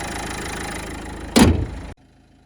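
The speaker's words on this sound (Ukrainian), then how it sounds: "двигун працює тихо, рівно, так як має працювати дизельний" A 1.5-litre diesel engine in a 2014 Renault Clio idles with a steady, even low rumble, then a loud thud like a door shutting briefly before the sound cuts out.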